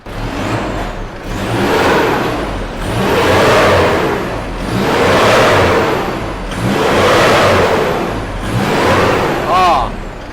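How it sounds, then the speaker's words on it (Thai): Isuzu D-MAX pickup with a 3.0L engine and aftermarket exhaust revving hard in four repeated loud surges, each rising then falling back to idle, close by with a brief squeal near the end. "เดี๋ยวมา เร่ง ฟังเสียงกัน อ่ะเบิ้ลหน่อย"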